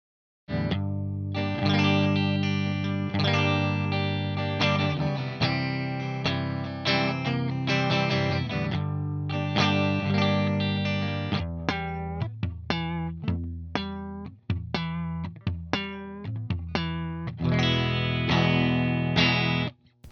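A bass guitar is played through a real amplifier, with sustained distorted notes and quick plucked runs filling about twenty seconds, loud and close with no talk.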